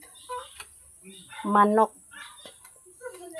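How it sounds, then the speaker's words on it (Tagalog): A chicken lets out a loud, throaty cluck among other clucking chickens, with softer clucks and low murmuring sounds nearby. "Naada tay manok nga napalit."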